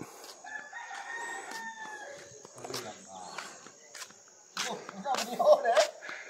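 Fighting rooster crowing nearby at a rural longhouse, a drawn-out cock-a-doodle-doo at the start followed by scattered clucks, rustling and footsteps, with a voice speaking briefly.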